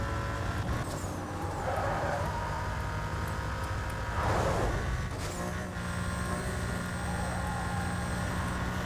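Engine of a racing car accelerating in Need for Speed Most Wanted on a ring circuit during the final lap: a steady, loud motor drone with a rising surge and a passing whoosh near the middle, with no talk over it.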